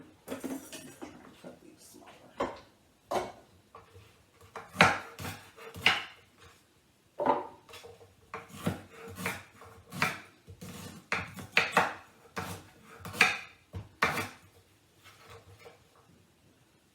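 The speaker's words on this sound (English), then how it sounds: "I'm just going to put these in and kind of give them a good chop." A knife chops ginger repeatedly on a cutting board, in uneven bursts of sharp knocks at close range, with short quiet gaps between.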